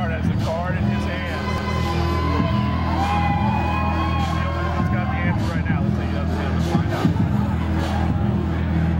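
A cheering, whooping crowd at a women's fight fills the space as the judges' decision is announced, a steady dense roar with yells rising through it and an announcer's voice talking over the top.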